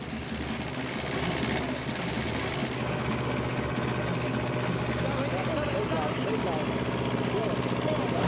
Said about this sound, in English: Could they get any more power out of their engine?